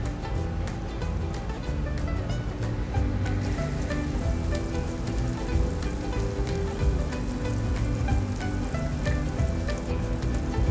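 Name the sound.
chicken frying in olive oil on a grill pan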